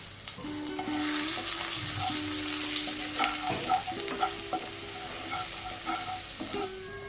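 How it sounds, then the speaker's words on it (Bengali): Crushed garlic frying in oil until reddened, a bright continuous sizzle with crackling bursts and scattered spoon clinks and scrapes, steady and moderately close, no talk. "রসুনগুলো খুব ভালোভাবে ভেজে নিয়েছি রসুনগুলো লাল হয়ে এসেছে"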